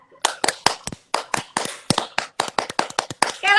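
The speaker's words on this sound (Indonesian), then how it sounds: "Ayo untuk semuanya tepuk pramuka." A group performing the Indonesian scout clap rhythm (tepuk pramuka), sharp in-unison hand claps in a patterned sequence of quick bursts and pauses, close and loud, with a brief voice at the start and end.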